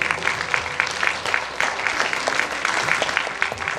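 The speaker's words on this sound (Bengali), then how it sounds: "একটু করতালি দেবেন" Audience applause at a Bengali theatre festival, steady broadband clapping from a crowd filling the whole stretch with no clear break, moderately loud and close.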